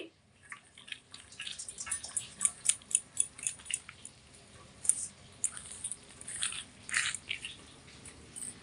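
Fresh Malabar spinach seeds are sliced with a knife over a perforated bowl, producing a run of soft, close crunching cuts in an irregular rhythm, faint and without any talk.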